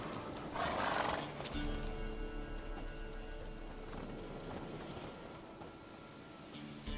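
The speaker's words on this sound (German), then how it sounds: "Wir müssen die Pferde tränken." Horses neigh in The Witcher 3 video game, a loud whinny near the start followed by softer snorting and hoof sounds over a steady in-game ambience.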